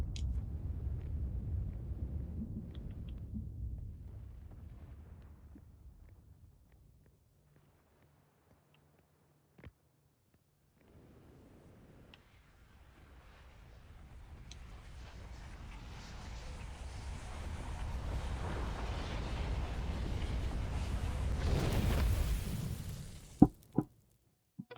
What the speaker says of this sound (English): And sun's exploding.